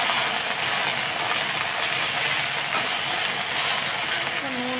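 Leafy greens are stirred in a cooking pan, producing a continuous loud hissing sizzle with faint scraping, without speech.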